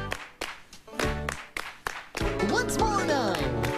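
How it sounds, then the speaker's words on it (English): A group of children clap in sharp, evenly spaced beats along to a rhythm, with sung voices and music joining over the claps in the second half. "Now it's going to be your turn. To try the clapping part."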